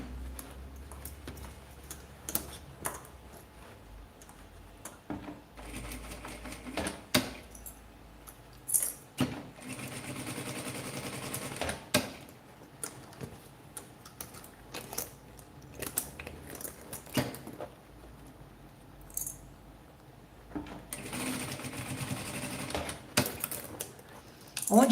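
A sewing machine stitching a small handbag made from fabric scraps, running a double reinforcing seam at the strap: rapid mechanical whirring bursts broken by short pauses and light clicks, fairly close.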